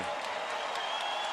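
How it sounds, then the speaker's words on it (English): Arena crowd at a UFC heavyweight championship fight roars and applauds in a dense, sustained wash of noise, loud and continuous through the brief moment. "Crowd reacts."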